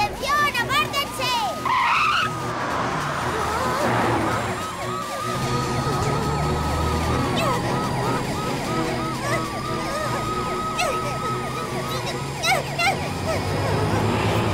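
A cartoon vehicle revs and speeds off with squealing, skidding tyres, while a siren wails and animated voices call out over the engine noise.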